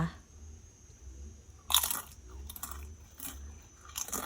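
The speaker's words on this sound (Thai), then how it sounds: "เดี๋ยวจะมาลองชิม ให้ดูความกรอบนะคะว่ามัน กรอบแค่ไหน" Crunchy fried yellow cassava chips bitten and chewed up close: a loud sharp crunch, then several quieter crisp crunches in an irregular rhythm, with no talking.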